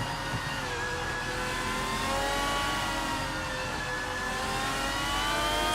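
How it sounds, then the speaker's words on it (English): A 2008 Porsche 911 race car drives at speed, its engine holding a steady, continuous high whine with slowly rising pitch, loud and close with no pause and no talk. "Marty Freeze is driving a 2008 Porsche 911"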